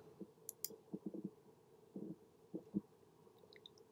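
Soft computer mouse clicks come in small irregular clusters, close and quiet against a faint room hum.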